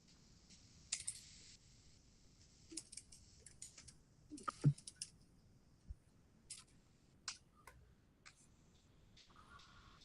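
Scattered keystrokes tap on a computer keyboard, irregular clicks and short bursts, some sharper than others, fairly faint against a quiet room.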